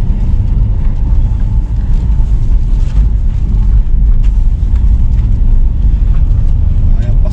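A Nissan Skyline GT-R BCNR33 on a test drive gives off a steady, loud low engine and road rumble from inside the cabin, continuous throughout with no clear gear changes standing out.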